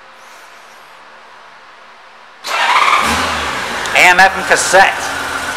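A 1999 Honda GL1500 Goldwing SE motorcycle engine starts up and settles into a steady idle, preceded by quiet room tone, with someone talking over the running engine.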